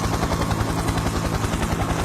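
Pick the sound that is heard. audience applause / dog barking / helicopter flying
helicopter flying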